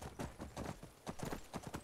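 Horse hooves in the video game Skyrim, a quick rhythmic clip-clop of a trotting horse with steady paired beats, faint and unbroken for the whole moment.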